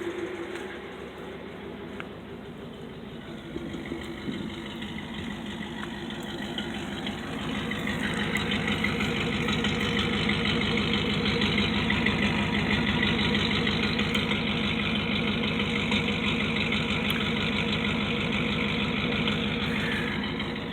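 A 1941 Cadillac engine idles with a steady low rumble about 12 feet away, growing slightly louder partway through and holding an even, continuous tone.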